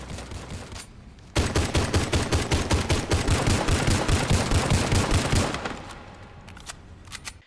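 An H&K VP9 Match pistol fires in the game Warface, letting off a long rapid string of sharp, loud shots in a steady rhythm for about four seconds, followed by quieter mechanical handling clicks, with no talk.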